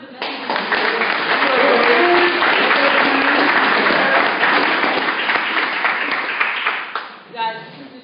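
An audience at a team gathering bursts into loud, dense clapping that holds steady for several seconds before tapering off, with a brief voice rising at the end.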